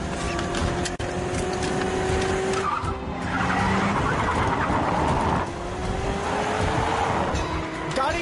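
A car in a film chase races at speed with repeated long tire squeals and skids, the sustained screech sliding in pitch over a constant loud roar of engine and road noise.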